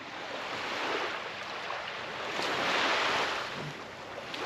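Waves wash in at a beachfront water's edge in Uruguay, a continuous rushing surf with a gentle swell in loudness, mixed with some wind noise and no voices.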